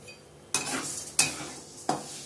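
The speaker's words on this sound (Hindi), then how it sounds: "मूंग दाल को लगातार चलाते हुए भूने।" Moong dal dry roasting in a kadai without oil, with three distinct sweeping stirs, each a rattling scrape of grains against the pan that fades into a soft hiss.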